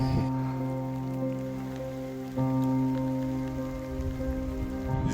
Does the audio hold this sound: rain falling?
yes